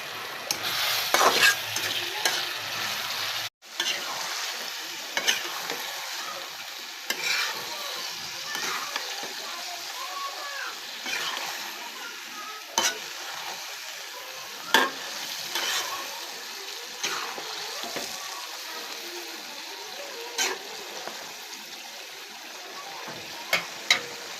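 Chicken is stir-cooked with water and salt, giving a continuous sizzle under repeated spoon scrapes and stirring clacks spread through the whole stretch, with a short sharp break near the start.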